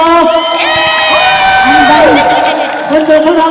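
A crowd at an OFW family day event claps and cheers, with excited voices and shouts mixed over lively music throughout.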